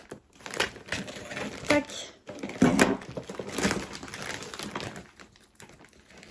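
Parcel opened by hand without scissors, packaging crinkling, tearing and crunching in irregular bursts close by, with a brief word spoken partway through.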